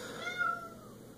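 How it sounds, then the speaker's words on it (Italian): A single drawn-out, plaintive meow from a cat, fairly close and clear against a quiet indoor background. "il gatto triste."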